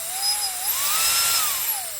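A Volinex compressed air duster's small motor runs with a steady high-pitched whine, its pitch rising and falling slightly as it spins up, close and fairly loud with no talking.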